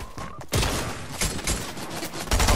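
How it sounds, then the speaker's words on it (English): Gunfire in Fortnite as loud, close bursts of shots with clustered cracks and brief gaps between volleys, continuing to the end with no talk. "Stop shooting me."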